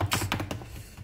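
A few quick keystrokes on a wireless portable keyboard, soft clicking taps over a steady low hum, close and brief.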